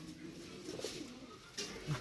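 Soft cooing from a young Chinese-breed pigeon chick, quiet and close, with a brief low coo rising near the end over faint background noise.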